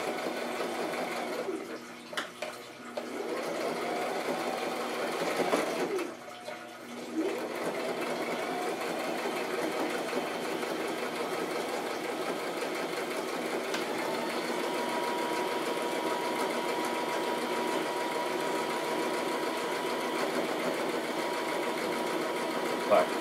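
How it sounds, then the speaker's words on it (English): A sewing machine hums steadily and close as it stitches handbag fabric, pausing briefly twice early on and then running on without a break. "A few stitches and then back stitch and lock it back on."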